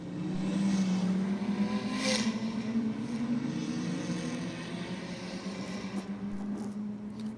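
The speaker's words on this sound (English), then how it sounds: "It doesn't sound like a 3-cylinder car either." A 3-cylinder race car drives on a circuit, its engine a steady droning hum that sustains loudly then eases slightly as it moves away, with no voices heard.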